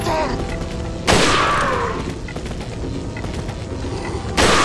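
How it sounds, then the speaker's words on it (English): Gunfire in Resident Evil 4 (2005), with two loud, sharp blasts about three seconds apart, each trailing off into a ringing decay over steady game background noise. "I'm gonna just keep shooting him in the head."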